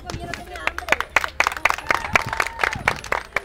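A studio audience at a special 100th-episode cooking show claps in brisk, uneven bursts. Sharp, close hand claps patter steadily while people talk over them.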